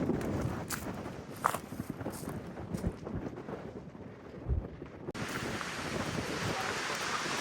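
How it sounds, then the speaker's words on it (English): Gusty wind buffets the microphone high on a steep mountainside above Lake Moraine, a broad continuous roar with brief thumps and a sudden surge near the end, with no talking. "It is so windy up here"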